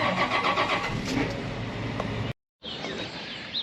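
A farm sprayer's engine starts up nearby, a mid-pitched motor catching and running steadily before a brief cut, then idling on at close range with no talking.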